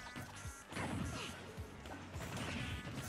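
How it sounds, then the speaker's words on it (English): A spike attack lands during a Super Smash Bros match, heard as sharp smashing hits amid crowd and game noise, with several impacts over a busy background. "Love hearing that spike."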